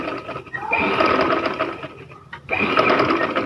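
A sewing machine runs steadily, stitching a decorative design on a trouser hem with shiny anchor thread, with one brief pause before the close, continuous whirr resumes.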